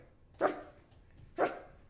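A farm dog barks twice, two sharp, evenly spaced woofs close by against a quiet background, used as a sound effect.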